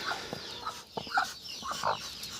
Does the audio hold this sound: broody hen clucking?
yes